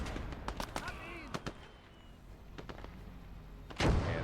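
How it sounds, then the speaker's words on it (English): Mortar firing in the World War II video game Gates of Hell: Ostfront, scattered distant shots through the battle followed by one loud, heavy boom near the end. "They have put ammo into the mortar."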